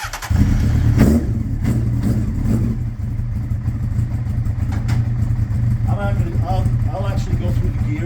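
A Honda CBR900RR motorcycle engine turns over and settles into a steady, close idle that holds throughout, with a brief louder burst near the start and a voice talking over the later part.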